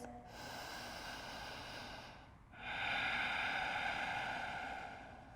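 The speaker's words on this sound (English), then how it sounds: "We'll take one last deep breath" One slow, deep breath during a hatha yoga session, a soft airy inhale that swells into a fuller, louder exhale, close and quiet, with no talking.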